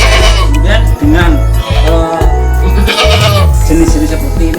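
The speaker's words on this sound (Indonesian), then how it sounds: "jenis kambing peranakan Etawa." Etawa crossbreed goats bleat loudly and repeatedly, several wavering calls overlapping one another close by, filling the scene with little pause between them.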